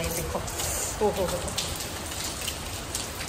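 Heavy rain falling outdoors, a steady broad hiss of drops under someone talking briefly, moderately loud throughout.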